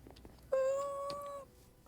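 A single cat meow lasting about a second, clear and fairly close, with a steady drawn-out tone and quiet background on either side.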